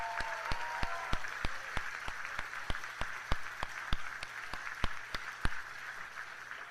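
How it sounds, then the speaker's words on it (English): An awards ceremony audience applauds the sponsors at NASA's 2023 Human Exploration Rover Challenge, with a crowd's clapping under loud, evenly spaced sharp claps that keep a steady beat throughout. "please join me in a round of applause for our partners for sponsoring these awards"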